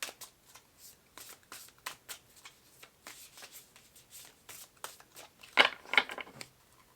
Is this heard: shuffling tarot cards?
yes